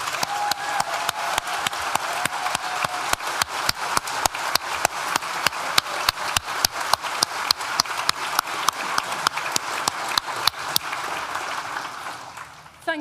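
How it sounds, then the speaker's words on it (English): Steady audience applause at a university graduation ceremony for the Nottingham School of Art & Design, many hands clapping in a dense continuous patter that holds for several seconds before fading out. "stand up and let's give you a round of applause"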